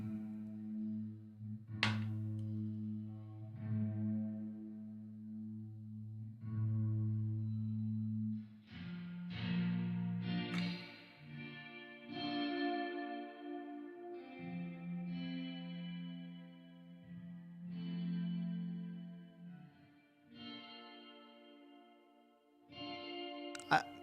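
Electric guitar notes and chords played through a BABY AUDIO lo-fi plugin, a warbly wash of chorus and echo, fairly quiet and intimate, with sustained low tones early on.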